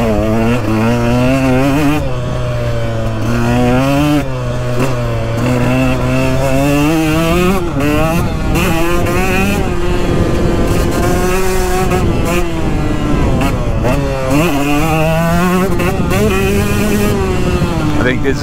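A 2022 KTM 125XC two-stroke dirt bike fitted with an FMF Factory Fatty pipe and Power Core 2.1 silencer rides a moto track, its engine loud and close, rising and falling continuously as the throttle is worked throughout.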